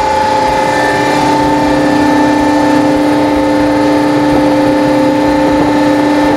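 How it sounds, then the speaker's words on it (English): A pump drives a chain-drive continuous-belt semi trailer from Strong Box at full speed, making a steady, loud mechanical drone with a constant pitched hum that holds without change throughout. "I'll turn it up all the way. We don't have a very fast pump, so it's not moving very fast"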